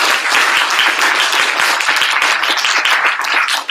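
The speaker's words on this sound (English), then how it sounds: "Let's give Noam a big round of applause." An audience at a sales awards gathering applauding, a dense, loud, sustained crowd of hand claps that carries on steadily before tapering at the very end.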